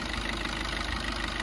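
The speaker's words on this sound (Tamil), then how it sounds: "இப்போ இன்ஜினோட கரெக்டாக இருக்குது நாய்ஸு." A Maruti Swift Dzire engine idles after a camshaft timing fix, giving a steady, even mechanical hum with a faint regular pulse, close and continuous with no talk.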